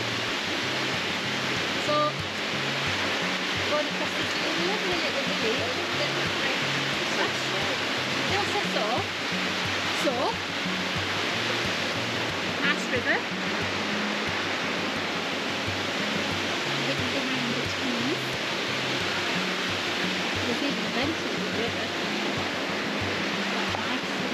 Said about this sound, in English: don't know if you can hear because of the river